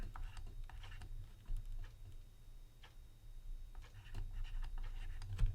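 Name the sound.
writing out a musical note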